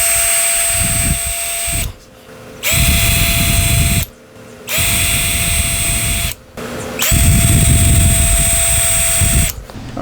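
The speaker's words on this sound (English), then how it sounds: "so let's go ahead and drill some holes." A power drill bores back cover holes into a Flying V guitar kit body in four loud whirring bursts separated by short pauses, the motor pitch steady during each run.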